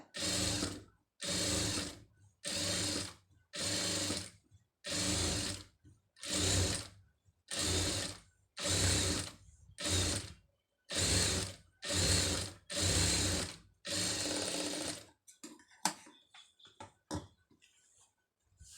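Sewing machine stitching a silk border onto a round neckline, running in about a dozen steady bursts of roughly a second each with short pauses between, loud and close, then quieter handling noises at the end.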